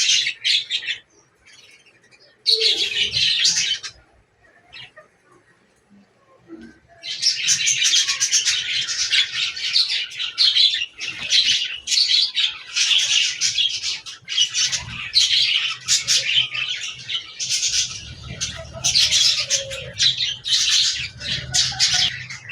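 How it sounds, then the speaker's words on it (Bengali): Two doves of different breeds, kept together, call after bathing, giving bursts of repeated chirps and squawky notes that come and go in close bouts with short quiet gaps between. "বন্ধুরা, এখানে আমার দুইটা ঘুঘু পাখি আছে"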